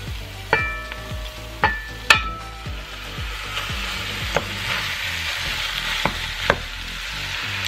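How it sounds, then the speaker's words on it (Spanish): Ground beef sizzles and fries in a pan for a picadillo, a steady crackling hiss broken by several sharp clanks and scrapes of a utensil stirring against the pan. "Ya le voy a agregar la carne molida."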